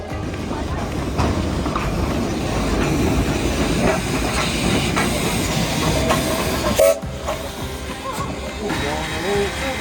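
A steam train on a zig-zag mountain railway rumbles along steadily with a hissing, noisy wash, a brief clunk partway through, and a voice speaking faintly underneath.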